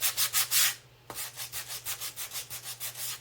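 Smooth-grade sandpaper rubs across a pumpkin in quick, even back-and-forth strokes, close and rhythmic, with a brief pause before the steady sanding resumes.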